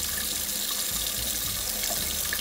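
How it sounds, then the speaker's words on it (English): Water trickles and runs steadily from a leaking Moen kitchen faucet into the sink, a continuous close splashing flow with no talk. "now, sometimes I get water running out of here"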